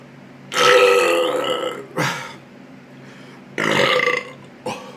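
A loud, long, guttural burp follows drinking a two-liter Coke, then several shorter belches come in quick bursts, close and harsh.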